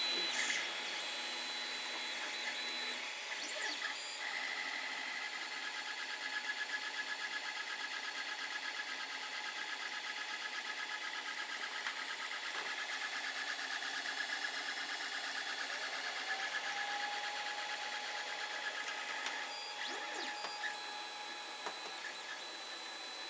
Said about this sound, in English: My Creality Ender 5 Plus.